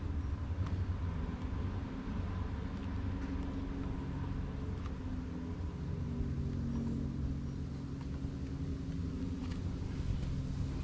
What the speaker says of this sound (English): So I'm gonna go ahead and full throttle.